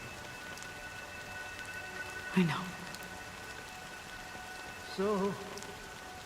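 Steady rain falls in the video game Honkai Star Rail, a soft continuous patter beneath two brief voiced moments, one of them a spoken remark.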